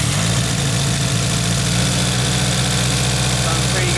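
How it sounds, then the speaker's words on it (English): Mitsubishi Evo 9 engine idling with loud ticking lifters, a steady close rumble with rapid mechanical tapping running throughout. "So you guys just get an idea of how loud the lifters are."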